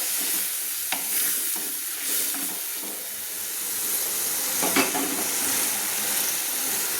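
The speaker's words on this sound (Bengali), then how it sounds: "অ্যাড করে দিয়ে আমি ভালো করে কিন্তু এই গুঁড়ো মশলাগুলো এবার আমি কষিয়ে নিচ্ছি" Ground spices sizzle and fry in oil with a splash of water in a pan for a Bengali rohu fish curry with drumsticks, giving a steady close hiss with occasional stirring scrapes.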